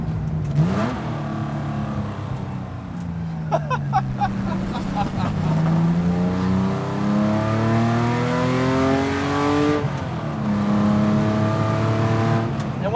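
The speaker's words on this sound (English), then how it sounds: "the way it revs is so good" RWB Rauh-Welt Begriff Porsche 911 with a 3.2 engine and equal length headers revving hard, rising and falling through repeated sweeps up to high rpm, loud and close, with a voice speaking over it in places.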